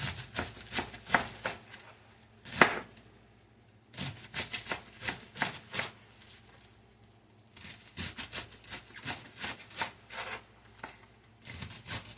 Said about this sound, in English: So I'm just going to go ahead and cut this into small strips.